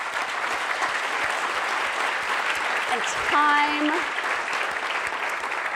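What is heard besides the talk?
audience applause for conference presenters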